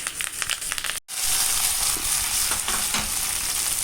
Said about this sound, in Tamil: இப்போ நம்ம கடுகு தாளித்து கொட்டிடலாம்